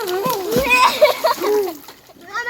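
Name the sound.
child splashing water while learning to swim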